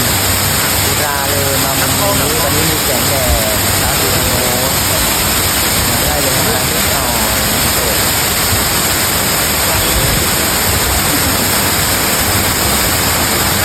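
A waterfall at a cafe in Chiang Rai pours in a loud, unbroken roaring rush, filling the scene at close range while someone talks briefly over it.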